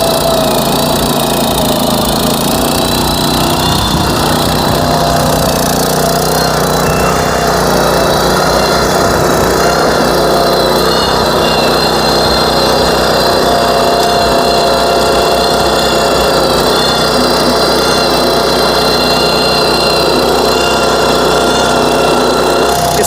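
A 10 HP back rotary tiller engine roars loudly and continuously while churning hard, dry paddy field soil with weeds, a steady close mechanical drone throughout.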